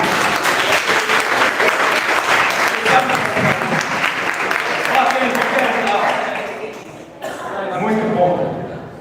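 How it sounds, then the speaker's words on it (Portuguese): Church congregation applauding during a regional worship service with communion, dense sustained clapping filling the space for most of the stretch before thinning out, then a brief renewed burst near the end. "que palmas para Jesus"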